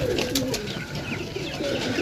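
Pigeons coo close by, soft throaty rolling calls overlapping one another in a short burst.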